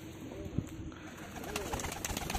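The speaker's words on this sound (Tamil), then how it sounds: "இந்த புது புறா வந்திருக்கு" A newly arrived pigeon coos softly and intermittently amid steady outdoor ambience, with no voices present.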